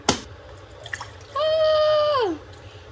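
Water poured into a pot for cooking rice makes a steady rising gurgle lasting about a second, preceded by a sharp knock and a few faint clinks.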